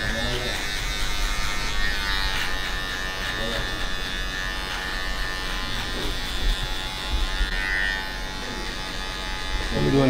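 Electric hair clippers buzz steadily and close up while cutting a number one skin taper fade, and a voice talks intermittently over the hum.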